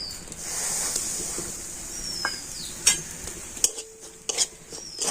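A spoon scrapes and stirs semolina frying in ghee in a pan over a soft sizzle, with a few metallic clinks standing out from the quiet frying.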